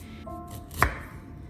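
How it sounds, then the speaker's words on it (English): A knife cuts through a piece of fresh ginger root with a single sharp, close chop, set against quiet kitchen background sound. "As for the ginger, I only cut off a small piece, just enough for our recipe."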